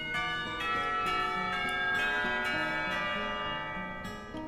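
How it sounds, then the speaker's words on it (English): A school lunch bell in the game Katawa Shoujo rings out in a steady chiming pattern of bright, sustained tones, moderately loud and unbroken over a few seconds with no talk. "The lunch bell rings, signaling a return downstairs."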